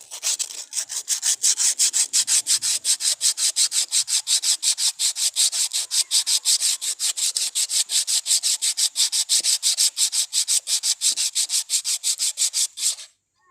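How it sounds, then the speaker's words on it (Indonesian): Coarse 120-grit sandpaper rubs back and forth over a bamboo ashtray in fast, even strokes, about four per second, close and loud for roughly thirteen seconds, then stops. "kita akan menghaluskan permukaan bambu menggunakan amplas kasar"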